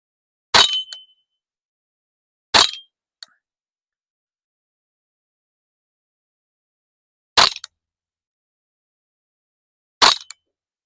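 Four sharp metallic clinks, spaced irregularly over about ten seconds against near silence, as .22 Federal Punch rounds strike a steel spinning target, with one faint extra tick after the second hit.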